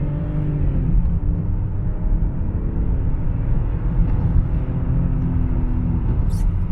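A BMW 728i on kickdown, its engine rumbling loud and steady from inside the cabin as it accelerates, a continuous low drone holding for several seconds with no talk.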